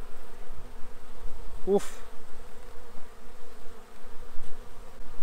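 Honeybees hum in a weak colony's hive opened at its frames, a steady close buzz throughout; a short exclamation cuts in once partway through.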